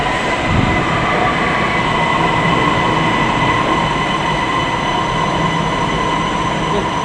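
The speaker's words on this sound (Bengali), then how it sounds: "প্ল্যাটফর্ম 1 নম্বরে ট্রেন ঢুকে পড়ছে।" A Malaysia MRT metro train rolls into an underground platform: a steady, loud rumble with a sustained wheel or motor whine running throughout, no talk over it.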